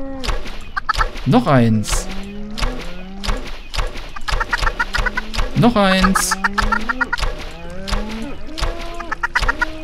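Minecraft chickens cluck and squawk repeatedly in a game farm pen, a loud, busy run of bird calls with occasional sharper cries, while someone talks over them.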